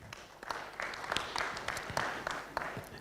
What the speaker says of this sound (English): A round of applause again for Paul Stewart.